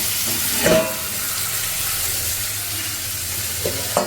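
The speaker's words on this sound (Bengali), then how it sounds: "আর মাছ ভাজাটা ধোয়া উঠছে" Fish frying in a pan in a home kitchen gives a steady broadband sizzle throughout, with a few brief clinks and scrapes near the start and end over a low hum.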